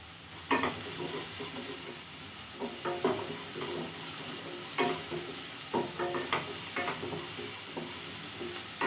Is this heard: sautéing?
yes